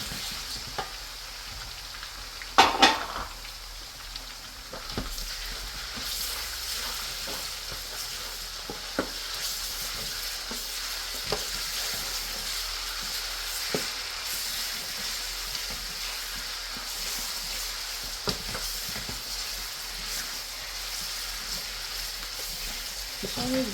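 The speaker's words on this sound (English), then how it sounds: "So I will go ahead and add my tomato paste. So I'm going to let this fry for some time." Tomato paste fries in a pot for Nigerian jollof rice, giving a steady, close, even sizzle, with occasional stirring knocks and scrapes and a louder clatter early on.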